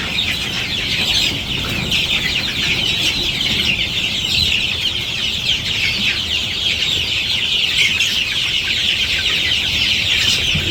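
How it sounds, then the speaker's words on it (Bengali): A flock of chickens clucks steadily and loudly at close range, many overlapping calls forming a continuous dense chatter with no voices. "সব মুরগি আইতেছে একটা একটা করে।"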